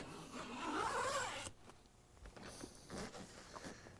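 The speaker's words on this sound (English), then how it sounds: "we're going to unzip the tonneau cover, lifting slightly on it so we don't scratch the top of the dash" A zipper on a 1994 Dodge Viper's soft tonneau cover being drawn open over the dash, a steady rasping pull for about a second and a half, followed by quieter scraping and handling sounds.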